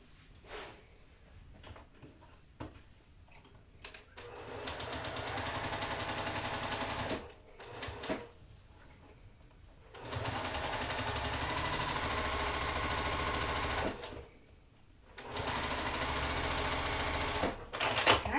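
A sewing machine stitches a quilt block in several sustained runs of rapid mechanical chatter, stopping and restarting with quiet pauses between bursts, close and steady with no talking.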